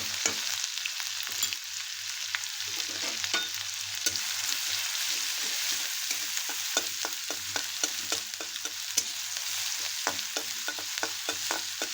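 Ginger, green chilli and garlic paste sizzling in a pan for potato chutney, a steady crackling fry with a run of quick, regular stirring scrapes in the second half and no talking.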